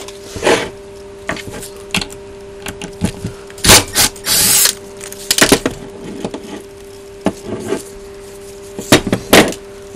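Repeated loud bursts from an impact gun hammering at loose screws on a Yaesu G-650 antenna rotator, each a short rattling blast separated by pauses, with lighter knocks and handling in between.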